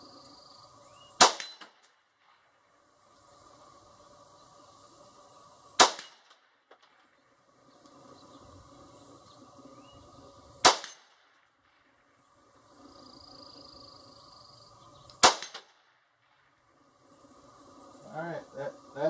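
Four sharp shots from a Rossi .22 WMR rifle, each followed by a metallic clang off a steel target, spaced several seconds apart with a faint background hum and brief voices near the end.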